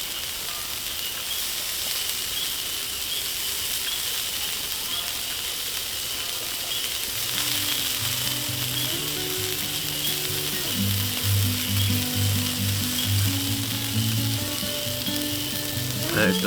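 Asparagus sizzles in a pan on a camping stove, a steady close frying hiss that grows fuller and louder halfway through, with low bubbling tones joining in.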